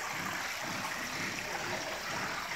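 Water trickles steadily over a small homemade cascade feeding a fish tank or pond, a continuous close splashing babble with no talk over it.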